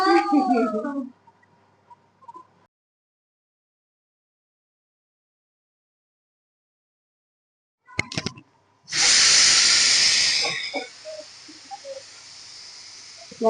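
A pressure cooker lets off steam while cooking pav bhaji, giving a loud, sustained whistling hiss of a couple of seconds that fades out. Short voices and clatter come before and after it.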